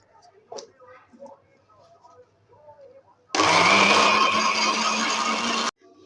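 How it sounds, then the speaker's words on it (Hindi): An electric blender whirs loudly for about two seconds as it purees green chutney ingredients with a little water. It comes in abruptly after some quiet kitchen talk and cuts off sharply. "अब हम इसे करेंगे ब्लेंड।"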